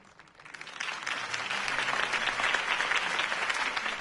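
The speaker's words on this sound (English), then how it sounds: "If only Mr. Wayne, my campaign's largest backer, could have heard that applause" Crowd applause after a campaign speech in the Batman Telltale Series game on PS4, a dense clapping that swells from quiet to steady and fairly loud, with no voices over it.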